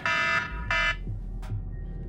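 A game timer alarm beeps in two loud, harmonic tones with a fainter third tone, all over low background rumble in the Wildlands beta.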